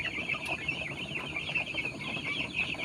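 Dense chorus of three-day-old chicks peeping steadily while jostling at their feeder in a new backyard cage, a continuous high chirping close by with no voices.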